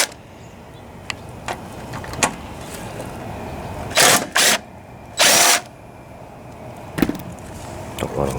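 Power drill fitted with a 5/16 socket removing a steering part from a vintage green Craftsman riding mower with a 20 HP Briggs & Stratton twin engine, giving three loud bursts of whirring, the last held about half a second, between light clinks and workshop noise.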